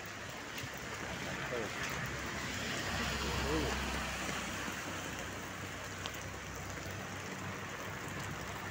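Steady rain falls outdoors in San Fernando, Pampanga, a dense, even hiss with a low rumble underneath, heard along a street with faint background activity.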